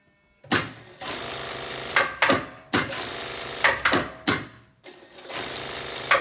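A Brother Exedra industrial straight-stitch sewing machine, just reassembled after repair, runs in repeated short loud bursts of motor whir and rapid needle clatter, starting and stopping about six times up close.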